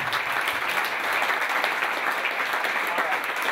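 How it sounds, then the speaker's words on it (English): An audience at a blind sailing regatta gathering gives a continuous round of applause, a moderately loud, even wash of many hands clapping. "everybody I think deserves a round of applause"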